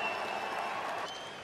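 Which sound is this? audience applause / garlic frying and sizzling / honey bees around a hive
audience applause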